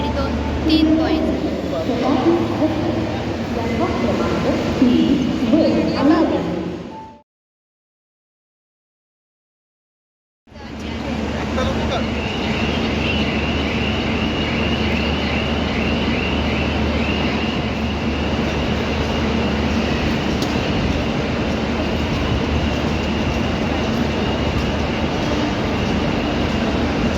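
Inside a moving passenger train, a continuous loud rumble and rattle carries on under people talking, cut by a few seconds of complete silence before the noise resumes.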